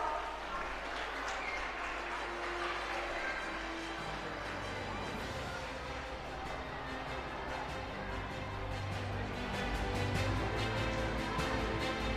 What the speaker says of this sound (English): So please children, give them a big round of applause